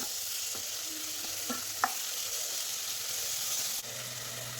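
Two small tomatoes, sliced lengthwise, are stirred in a pan with onions for an egg curry, giving a faint sizzle with a few soft spoon scrapes and taps, quiet and close with no talking.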